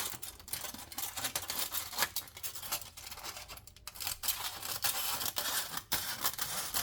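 Scissors snip steadily through a sheet of foil, cutting it into a strip for a resin craft project, with continuous close crinkling and rasping throughout and no talking.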